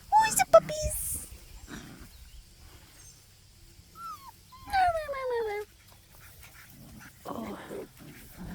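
Seven-week-old puppies whimpering and yipping during early morning play, several short high whines and squeals scattered across quiet stretches, fairly faint, with a person talking in between.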